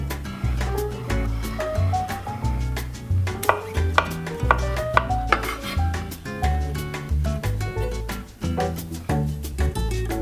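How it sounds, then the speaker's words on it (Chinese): A knife dices ham into small cubes on a cutting board while preparing Sicilian arancini, giving quick repeated chopping taps half-buried under steady background music. "火腿也切成丁"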